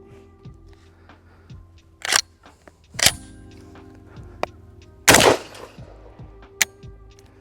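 A Browning Auto 5 semi-automatic shotgun fires several rounds at a range, sharp loud blasts spaced irregularly a second or two apart, with lighter mechanical clicks and clatter between shots.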